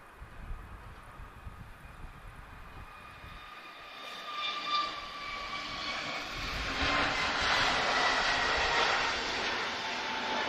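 A distant airplane engine swells into a loud roar as it takes off from Lisbon Airport, with wind rumbling underneath throughout.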